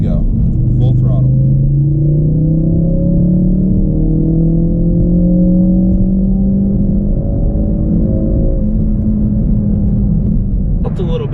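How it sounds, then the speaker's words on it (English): Ford Focus RS engine at full throttle in third gear, climbing from 3000 to about 6500 RPM in one long, loud, close rising drone that drops away near the end. "I'm gonna do a third gear from 3000 RPM all the way up to about 6500 and see how she does. And here we go, full throttle"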